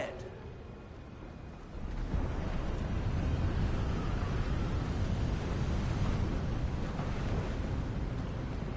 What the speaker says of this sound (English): A bit windy around there.